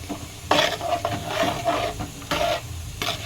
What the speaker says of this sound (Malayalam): എന്നിട്ട് ഒന്ന് ചെറുതായിട്ടൊന്ന് ഇളക്കി കൊടുക്കണം